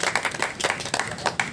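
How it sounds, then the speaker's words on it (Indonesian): A small podcast studio audience claps together at the opening of an Indonesian show, steady dense applause for a moment, close and fairly loud with no talking over it. "Tepuk tangan dulu."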